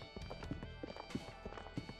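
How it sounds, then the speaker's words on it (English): Horse hooves clip-clop in the video game 999, a quick, quiet run of hollow knocks repeating irregularly over a faint background hum. "I swear it sounds like the frickin' coconut horses."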